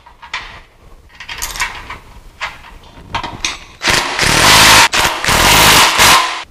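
Metal bolts being fitted and tightened on the post of a two-post car lift, heard as mechanical clanks and ratcheting clatter, sparse at first and then loud and continuous in the final seconds.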